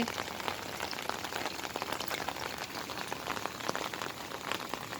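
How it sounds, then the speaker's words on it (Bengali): Heavy rain falls on a rooftop garden at night, an even dense patter of drops hitting leaves and the roof surface, continuous and close with no voices. "খুব বৃষ্টি হচ্ছে রাত ভর বৃষ্টি"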